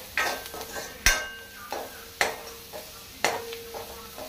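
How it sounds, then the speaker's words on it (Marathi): Masala frying in oil in a pan for a baingan bharta, stirred with a utensil: sharp scraping clinks and taps recur about once a second over a soft background sizzle, close and fairly quiet. "आपूण तेलान बरो मसालो 1 मिनिट बरो फ्राय करून घेवया."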